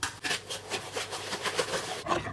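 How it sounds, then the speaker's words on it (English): A whisk beats egg, margarine and sugar in a bowl for gluten-free banana bread, giving quick, rhythmic scraping strokes heard close up with no talk. "Whisk the egg and sugar mixture together so everything is really nice and smooth."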